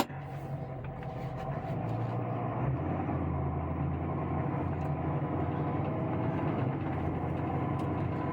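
A 6.4 diesel truck built for towing pulls off on a test drive, its low engine rumble rising as it gets under way, then holding a steady, fairly loud drone with faint clicks above.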